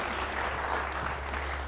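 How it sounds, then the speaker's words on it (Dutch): A crowd at a municipal election results evening gives loud, dense, sustained applause, heard at a steady level throughout. "Mag ik een heel groot applaus voor Roland Racing en Martin Goedeweld."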